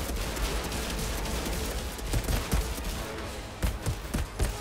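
Gunfire in the co-op shooter Outriders during a multiplayer endgame expedition, with a dense, steady stream of loud shots and several sharper bursts toward the end, with no talk over it.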